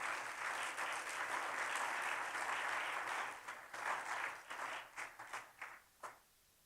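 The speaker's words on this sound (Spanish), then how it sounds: "denle el aplauso fuerte" A church congregation bursts into loud, sustained applause during an Easter sermon on the resurrection, the dense clapping tapering into a few scattered claps before falling silent.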